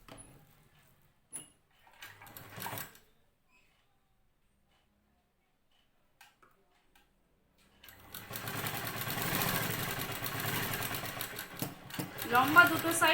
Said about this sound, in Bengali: মিডলে রেখে নিয়ে এবারে আমি এটা সেলাই করে দিব।